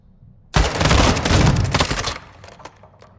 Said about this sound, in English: Swiftor says, fire one shot without hurting anybody.